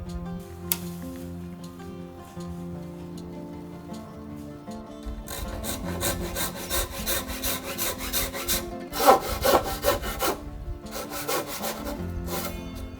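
A hand saw cuts through Japanese cypress joists in a woodworking shop, starting with quiet scraping, then a run of close, rhythmic back-and-forth strokes in bursts, with no speech.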